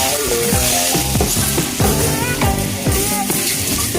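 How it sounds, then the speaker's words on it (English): Eggs and vegetables sizzle in a frying pan as they are stirred, a steady close hiss with soft scraping and music playing underneath. "then I put the eggs and I stir"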